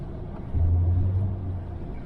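A 1968 Chevelle Nomad accelerating hard, its deep engine rumble surging in suddenly and holding loud and close for a brief moment.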